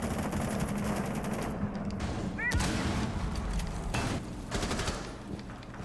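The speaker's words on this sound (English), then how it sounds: "A lot of gunshots going around." Rapid bursts of gunfire crackle throughout, with sustained automatic fire and scattered single shots, some near and some distant, under occasional talk.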